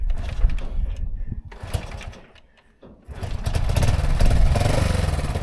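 A Honda Cub S65 motorcycle engine on its first start-up, a buzzy, sewing-machine-like running note that dips briefly and then returns steadily, close and fairly loud.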